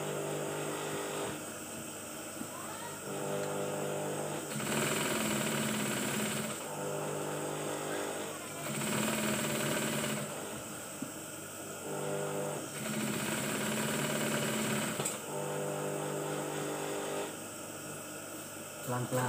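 Sewing machine stitching a batik shirt, running in several bursts of a few seconds each with short pauses between, close and loud, under quiet talk.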